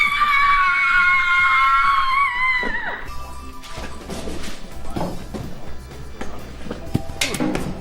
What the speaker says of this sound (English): Don't forget to scream this time.